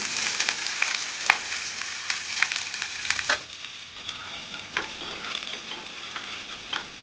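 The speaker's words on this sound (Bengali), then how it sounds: "এবার এর মধ্যে দিয়ে নেব আগে থেকে কেটে রাখা কিছুটা পেঁয়াজ কুচি" Mustard oil sizzles and crackles loudly in a pan as chopped onion is dropped in, the frying settling into a steady, softer spatter with occasional pops.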